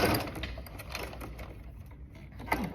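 A sewing machine runs steadily, stitching a small zipper coin purse, with a busy mechanical whir and rapid needle clatter at moderate, fairly quiet volume and no talking.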